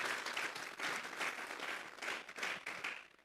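Congregation applauding during a Sunday church service: sustained, moderately faint clapping from a crowd with rhythmic swells, continuing for a few seconds.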